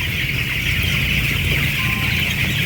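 Chickens cluck and murmur continuously in a coop at night, a close, steady group chorus, with a constant high buzz of insects or ambience behind them.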